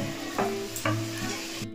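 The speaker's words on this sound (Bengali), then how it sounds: "লুচি ভাজা চলছে," Luchi, puffed flatbread, frying in hot oil in a home kitchen, a close steady sizzle broken by a few short scraping stirs.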